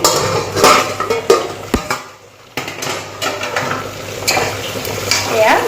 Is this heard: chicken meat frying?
yes